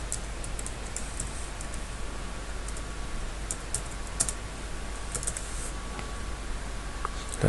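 Fast, light keystrokes on a computer keyboard tap out a file name, a steady run of soft clicks over a faint constant hum, no talk.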